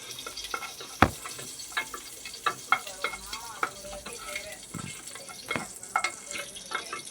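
Mustard seeds splutter in hot oil while tempering, a soft frying sizzle broken by irregular sharp pops and crackles, heard up close.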